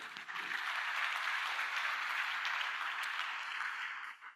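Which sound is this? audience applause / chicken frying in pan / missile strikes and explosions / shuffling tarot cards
audience applause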